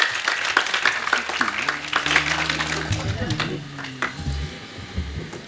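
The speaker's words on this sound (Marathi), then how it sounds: "ज्यांनी ज्यांनी भजन केलं त्यांनी शेजारच्यासाठी एकदा जोरदार टाळ्या वाजवा." Audience at a Marathi kirtan applauds the bhajan singers, steady close clapping throughout, with someone speaking over it.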